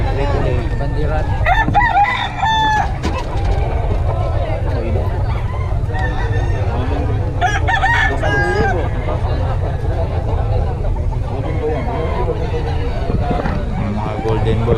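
Roosters crow loudly and repeatedly at a busy chicken market in Bocaue, over steady crowd babble and talking vendors.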